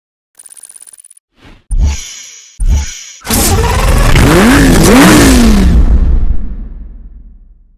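Lamborghini V12 engine in the racing game NFS Hot Pursuit Remastered, a short electronic beep, then two sharp blips of the throttle, then a long loud rising rev that holds and fades away.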